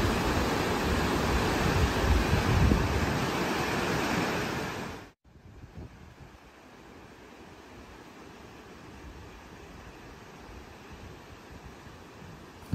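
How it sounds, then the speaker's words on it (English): High autumn river water rushes in a loud, steady broadband roar, then cuts abruptly to a quieter, softer flow of the same water. "The calm waters become violent, and the violent waters become ferocious."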